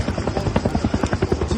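A Bell firefighting helicopter flies overhead, its rotor chopping in a fast, steady, loud thump pulsing throughout a short stretch with no other sound.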